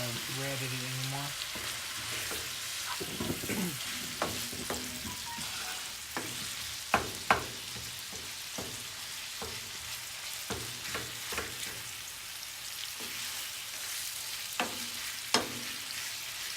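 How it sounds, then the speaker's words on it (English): Ground beef sizzles steadily in a pan for Asian empanadas, with a constant frying hiss broken by sharp scraping and clacking as a utensil stirs the meat at irregular intervals. "your ground beef needs to change a totally different color than what it looks like now. It needs to be a dark brown-ish."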